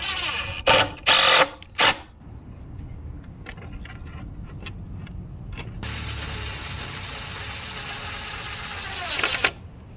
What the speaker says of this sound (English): We will screw one piece of the big plywood to a piece of the small plywood.